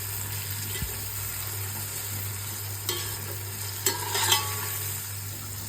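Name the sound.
sautéing green chillies for chicken biryani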